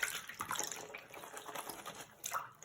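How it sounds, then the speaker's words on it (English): Water running into a sink, a faint, fluttering splash with small drips that swells near the end, heard alone without speech. "I put some water in my sink."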